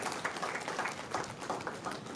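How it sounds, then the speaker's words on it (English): Audience applause for the organiser at a cyber security talk for startups, a steady, dense patter of many hands clapping at moderate distance, sustained evenly throughout with no speech over it. "applause to Prince Andy for putting it"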